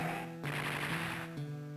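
An artillery unit fires in Advance Wars, a burst of bright noisy blasts laid over steady looping game music, lasting about a second before the tune carries on alone.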